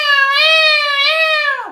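A human voice imitating a crying baby in a pinched, nasal wail: one sustained, loud cry held close to the microphone that trails off at the end.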